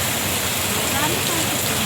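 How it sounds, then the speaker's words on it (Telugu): Hailstones and heavy rain drum down in a dense, loud, unbroken rush close by. "వానరాలు కూడా పడుతున్నాయి. వానరాలు గట్టిగా పడతాయి"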